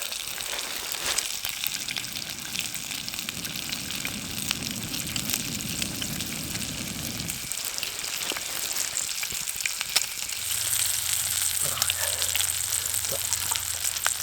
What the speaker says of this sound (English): Start with the sausage. Just open them up just to get them real crispy.